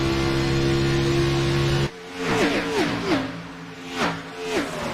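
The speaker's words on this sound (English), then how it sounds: "So the tires are squealing right now." Race car tires squealing on track at Charlotte in the iRacing video game: after a steady engine drone, repeated sliding tonal squeals rise and fall over engine noise, fairly loud and close.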